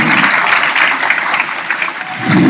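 Audience applause at a Model UN opening ceremony in Tanzania, a dense, steady wash of many hands clapping that fills the hall for the whole stretch, loud and close, with no break in it.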